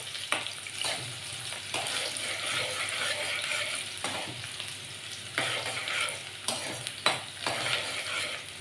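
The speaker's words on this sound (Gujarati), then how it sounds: "ગરમ થઈ ગયા છે તો આપણે એની અંદર નાખી દઈશું ડુંગળી." Onions sizzle in hot oil for a Kathiyawadi desi chana shaak, with a steady frying hiss broken by repeated scraping stirs of a spoon against the pan, close and fairly soft with no talk.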